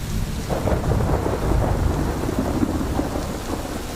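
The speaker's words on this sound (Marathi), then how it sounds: "काय ते पाऊस येतोय छान" Steady rain pours outdoors on a hillside road to a temple hidden in the hills, a dense continuous wash with low rumbling thunder beneath it, loud and close throughout with no voices.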